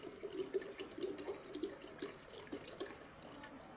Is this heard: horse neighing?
no